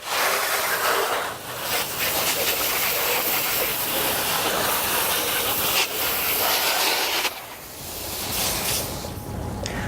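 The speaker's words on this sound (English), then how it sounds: "I'm going to turn it off the strong setting and onto the fan, and then I'm going to hose it all off" A garden hose nozzle on its fan setting rinses a car's engine bay, giving a steady, close, broadband hiss of spraying water that runs almost unbroken, with one brief dip near the end before resuming.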